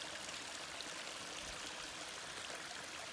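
A woodland river rushes steadily, a broad, even hiss of flowing water heard at a distance with no voices, constant and moderately quiet throughout.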